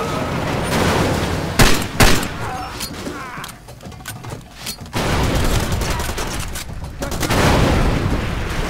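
Two cars blow up in the shooter game Far Cry 2, with heavy booming bursts and gunfire-like cracks, then a quieter rumbling lull before another roaring stretch, with a voice speaking under the noise.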